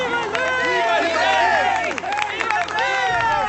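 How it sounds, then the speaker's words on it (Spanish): A crowd in a dramatized Bible scene proclaiming a new king, applauding and shouting together in a dense, continuous wash of cheers and overlapping voices, loud and close throughout. "todos aplaudieron y gritaron"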